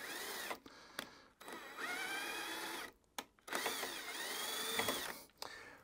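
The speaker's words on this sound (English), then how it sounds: "I've got my little M8 tap here. I'm just gonna tap through. Just to run those threads." A small M8 tap runs threads in a lawnmower wheel bolt hole. It comes through as short, faint bursts of whirring and squeaking, split by brief pauses, close by.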